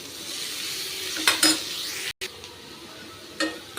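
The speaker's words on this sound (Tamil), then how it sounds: "குட்டி குட்டியாக கட் பண்ணி இந்த மாதிரி நல்லெண்ணெயில் வறுத்து எடுத்துக்கணும்" Small chopped pieces of pirandai (adamant creeper) fry in sesame oil, giving a soft steady sizzle broken by a few brief scraping stirs and a light clink of a utensil against the pan.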